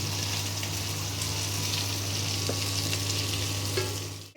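Onions frying and being stirred for murg kadai, a steady close sizzle running throughout with faint scrapes of the spatula in the pan, no voices.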